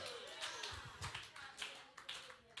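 Scattered clapping from a church congregation during a Sunday service, in loose uneven bursts mixed with a busy room and some voices, fairly close and moderately loud.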